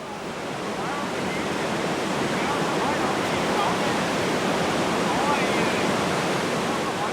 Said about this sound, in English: we think we can navigate that whole long stretch of rapids except for the last couple of 100 meters